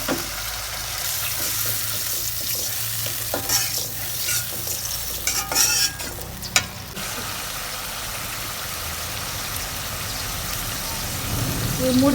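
Garlic, ginger and cumin paste frying in a pan as a little water goes in, giving a loud, continuous hiss and sizzle with some stirring clatter, over a low background hum.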